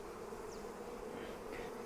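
Honey bees hum in a soft, continuous drone while a nuc is being installed into a hive box. The sound is faint and even, with no voices.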